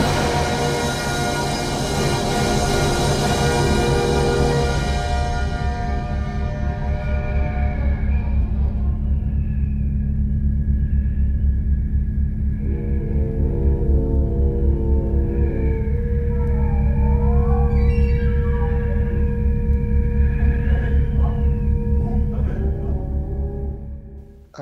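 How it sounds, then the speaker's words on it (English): Orchestral storm music opening a Verdi opera, a dense, loud wall of rumbling low strings and brass with swirling higher lines and rising figures, sustained throughout with no voices. "Which Verdi opera opens with this vivid storm scene?"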